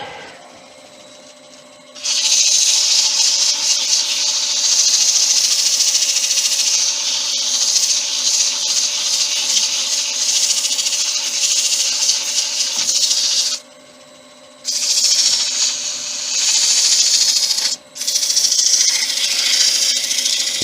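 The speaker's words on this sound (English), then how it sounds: "Now we'll sand the top of the hat." Abrasive sanding hiss against the top of a spinning wooden snowman's hat on a wood lathe, steady and close, with two brief pauses where the paper lifts off before pressing back on.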